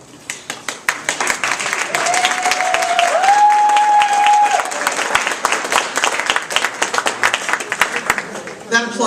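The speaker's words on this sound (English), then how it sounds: "That applause is not for me." A large audience at a Toastmasters district spring conference applauds loudly and continuously, swelling to a full roar mid-way with a short whistled tone over it, then breaking into scattered claps as it dies down.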